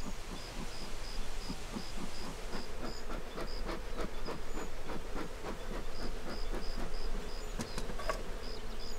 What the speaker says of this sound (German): Einen Teil des Honigs verzehren die Bienen selbst, den Rest sammelt Anatol ein.